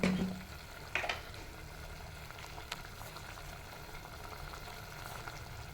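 A pot of sambar-style broth, sweetened with a little jaggery, simmers on the stove with a soft, continuous bubbling hiss and a few faint clinks near the start, close and quiet with no talking.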